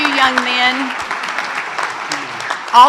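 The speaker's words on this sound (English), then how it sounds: "we're going to recognize them with a hand clapping" Applause from a crowd at a school board of trustees meeting, dense and steady, running under a voice talking over it.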